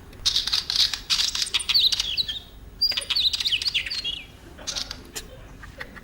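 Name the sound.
wheatear bird call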